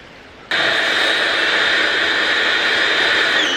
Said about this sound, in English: I've decided to give the car a wash with jet wash.